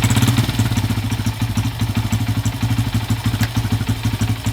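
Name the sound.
Honda CF80R motorcycle engine idling after first kick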